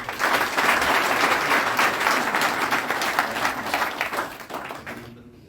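Audience at a political party meeting breaking into applause, a full, steady burst of many hands clapping that gradually fades and stops abruptly near the end.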